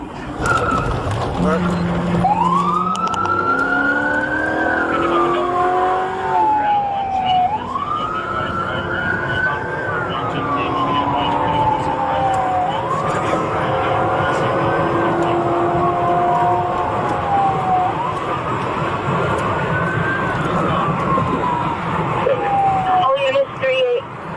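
An LAPD police car siren wails through repeated rising and falling sweeps during a pursuit of a possible DUI driver, loud and continuous over engine and road noise, with voices talking underneath.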